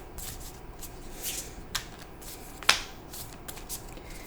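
Ancient Stones oracle cards are shuffled by hand in a few quiet, short riffling bursts and flicks, with one sharper snap partway through and no speech.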